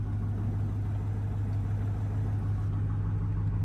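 A truck with a blown transmission sits in drive with its engine running, giving a steady, fairly quiet low idle hum with a constant droning tone and no talking.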